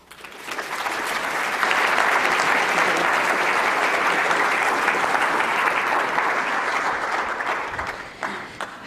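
Lecture audience applause welcoming oceanographer Fiamma Straneo, a steady wash of many hands clapping that swells within the first second, holds evenly for several seconds, and fades out near the end.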